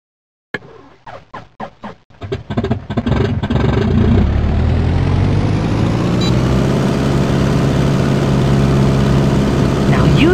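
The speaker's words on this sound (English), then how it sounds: "click the start button to crank up the engine" A small propeller plane engine in the Kid Pilot video game cranks with a few sputtering coughs, then catches and settles into a loud, steady drone that holds to the end.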